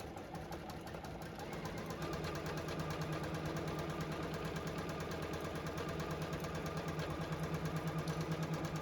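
A JUKI sewing machine stitches the side and bottom seams of a binder zipper bag, a steady close mechanical whir with a rapid, even needle rhythm that speeds up slightly and holds.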